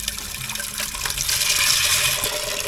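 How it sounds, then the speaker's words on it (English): A kitchen tap runs steadily over peas in a sink, water splashing and hissing continuously and growing slightly louder, with no voices. "so wash the peas"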